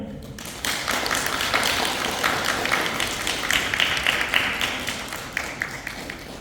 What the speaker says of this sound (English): Give a big applause to my diver here